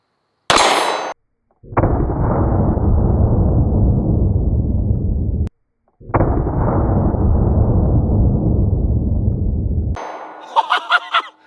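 A spring-loaded knife gun, held and aimed like a pistol, fires with a sharp metallic clang, followed by two long ringing, buzzing resonances and a cluster of light metallic clinks at the end.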